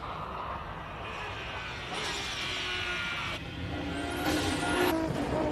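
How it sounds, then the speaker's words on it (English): An R32 race car climbs the Simola hill climb course, a sustained loud engine roar with rising revs and gear changes that grows nearer and louder toward the end, with no talk over it. "One of my personal favorites up the hill, the R32. Makes a wonderful noise."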